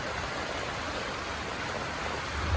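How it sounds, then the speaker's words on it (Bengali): Steady rain pours down outdoors just as a shower begins at a home where a floor is being plastered, a dense, even hiss of drops on surfaces continuing without a break and with no voices over it. "এইমাত্র বৃষ্টি শুরু হলো"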